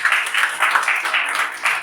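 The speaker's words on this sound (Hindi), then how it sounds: "तो पहले तो आप लोग अपने लिए ताली बजाइए" Audience clapping at a lecture on new media, a short burst of moderately loud applause with a pulsing, uneven rhythm from a modest group of listeners.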